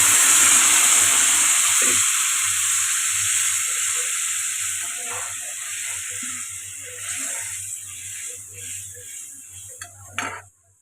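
A loud, steady sizzle as water is added to a hot frying pan of matar paneer masala, gradually softening, with a few light clinks of utensils and a sharp clatter near the end.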